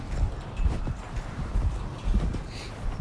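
A horse lopes around a round pen, its hooves thudding in a steady, rhythmic beat on the soft ground at close range.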